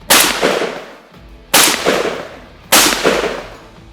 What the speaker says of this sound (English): we're gonna go ahead and shoot 3 more shells here just to prove Drylok's capabilities